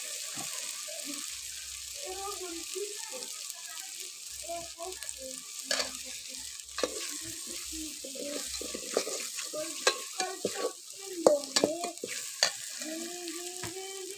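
Masala for chicken curry roasting in a pan over a wood-fired chulha, a steady quiet sizzle broken by repeated scraping and stirring strokes that grow sharper toward the end, with brief soft voices in the background.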